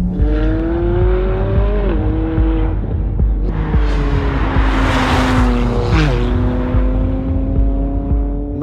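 A McLaren 570S sports car with 570 horsepower being driven hard, its engine loud and close, revving up through gears with clear shifts and a rising surge of intake and exhaust roar, plus some tire noise.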